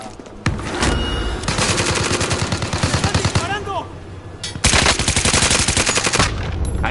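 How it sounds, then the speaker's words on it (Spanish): Loud bursts of automatic gunfire rattle in GTA V, long rapid volleys with a brief pause midway, while players shout over the shooting. "¡Me están disparando!"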